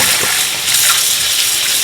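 Warm tap water runs steadily over raw chicken being rinsed clean in a home kitchen, a continuous close gushing stream with no speech.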